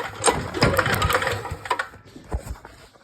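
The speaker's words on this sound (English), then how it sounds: "Hopefully you guys were able to hear the spark." A portable generator's spark plug sparks as the recoil starter is pulled, heard as sharp ticking clicks and mechanical rattles that thin out toward the end.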